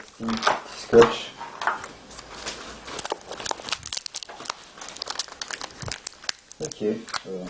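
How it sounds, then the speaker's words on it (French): Plastic wrap and tape being peeled off a Nintendo Wii nunchuk accessory, a run of close crinkling, crackling and tearing bursts mixed with small handling knocks, with people talking over it. "On enlève le petit plastique, le petit scotch."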